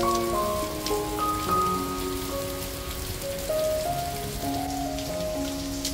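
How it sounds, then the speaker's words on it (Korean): Steady rain patters and drips all around in a nearly empty park, an even wash of droplets with no voices. "인적이 거의 없는 공원에 들어서니 벌써 시원한 빗소리 오케스트라의 공연이 한창입니다."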